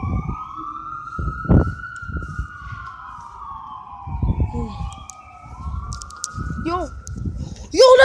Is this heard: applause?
no